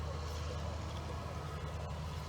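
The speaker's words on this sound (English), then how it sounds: "boy, all kinds of tractors going today." Tractors rumble past outdoors near a John Deere 4010 under repair, a steady low engine drone holding for the whole stretch at moderate, distant level with no one talking.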